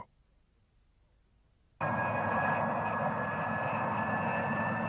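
A Comet IV-based RAF maritime patrol jet aircraft starts after near silence, its loud, steady jet engine roar with a high whine holding to the end.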